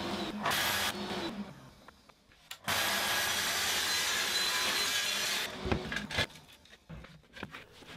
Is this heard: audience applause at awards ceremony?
no